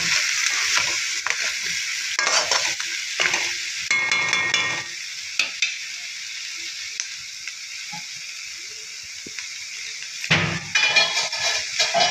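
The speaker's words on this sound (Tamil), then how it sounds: "கிளறி இறக்க வேண்டியதுதான் நண்டு வறுவல் தயார்" Crab fry being stirred in a pan over the stove, a steady sizzle of frying with repeated scraping stirs and occasional light clinks of the utensil against the pan, close and clear with no talking.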